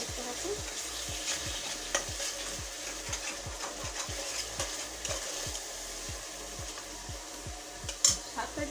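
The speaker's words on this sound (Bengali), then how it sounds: "এখন খুব সুন্দর করে এটাকে নেড়ে চেড়ে নিতে হবে।" Ginger garlic paste is stirred and fried in a pan while a shahi roast is cooked, giving a steady close sizzle broken by repeated scraping strokes of a spoon against the pan, with no talking.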